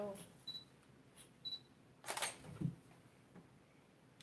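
A camera lens autofocus motor on a camera under repair whirs in short, faint chirps, followed by a louder mechanical click and some low handling noise, close up.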